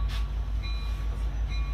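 An aging 30-year-old Metra commuter locomotive, a Canadian cast-off on Chicago's rail lines, rumbles steadily with a loud low-frequency drone and faint squeal, heard alone at close range.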